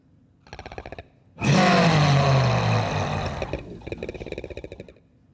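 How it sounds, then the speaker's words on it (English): A high-pitched monster roar, processed with Dehumaniser 2 and blended with vocal clicks, bursts in loud and sustained between short runs of rapid clicking, then breaks back into the fast click trains, alone without talk. "the roar was a lot higher pitched there, but it then morphs into the clicks"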